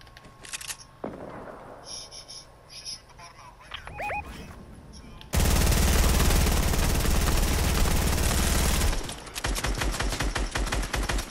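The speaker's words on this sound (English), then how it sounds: "I'm shooting them out" Rapid automatic gunfire in the battle royale game Fortnite, a loud sustained burst in the middle followed by rattling repeated shots, mixed with game effects and occasional player talk.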